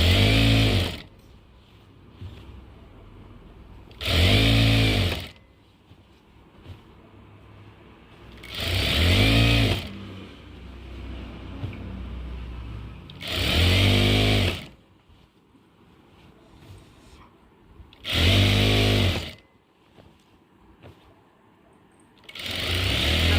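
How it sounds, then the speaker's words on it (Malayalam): A sewing machine stitches the folded hem of a nightie in five loud, even bursts of rapid whirring stitching, separated by quieter pauses with faint handling sounds. "ഇനി ഇതിനെ ഒന്ന് മടക്കി അടിച്ചു കൊടുക്കാവേ"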